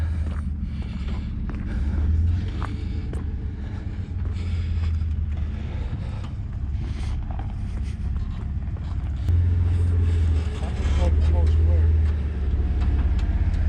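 Off-road vehicle driving around a sandy trail at Dominguez Falls, Sand Hollow, its engine a steady low rumble that swells in loudness a few times, with people talking over it.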